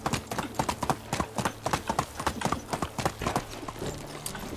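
Horse hooves clip-clopping at a brisk, steady gait while riding in the medieval game Medieval Dynasty, close and prominent, with a faint voice in the background.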